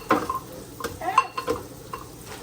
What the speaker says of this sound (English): Keep your ramen stirring up. Be sure it's breaking apart.